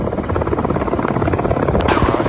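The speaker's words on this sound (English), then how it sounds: "The helicopter started flying over" A helicopter roars continuously overhead, loud and close, its rotor chop steady throughout.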